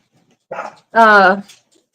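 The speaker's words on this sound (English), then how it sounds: "these dogs bark at every little sound" Dogs barking indoors, two loud close barks, a short one followed by a longer, drawn-out harmonic bark, with silence around them.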